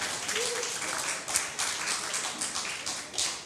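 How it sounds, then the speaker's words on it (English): A church congregation claps hands in a loose, rhythmic pattern, a room full of people applauding at moderate volume with a few louder claps standing out. "Give Jesus a hand clap."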